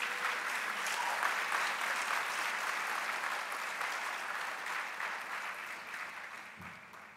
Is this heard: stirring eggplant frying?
no